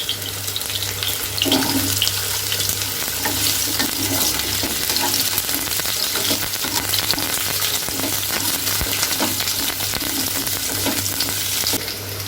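Raw green banana, potato and sweet potato fry together in a pan, giving a steady, close sizzle that runs unbroken throughout, with a low hum underneath and no talking.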